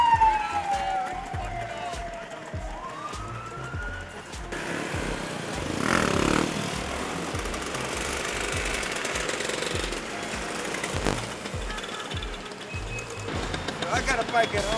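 A group of motorcycles revs and rides off together through Chicago, loud engine rumble and rising throttle over a busy street, with people talking in the background.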